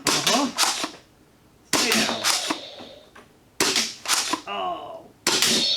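Worker Seagull toy foam blaster firing at targets, heard as repeated sharp snapping shots in short bursts of two or three, loud and close, with brief pauses between volleys and a voice speaking briefly among them.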